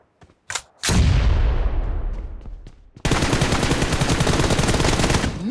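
PUBG Mobile gameplay gunfire on a Samsung Galaxy A34 5G, with a couple of quick shots and a heavy booming blast that rings out, then a dense, sustained burst of rapid automatic fire, loud and close.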